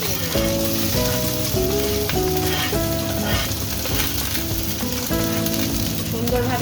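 Garlic, green chili and onion frying together in hot white oil for pan-fried momo, a steady dense sizzle heard beneath loud background music.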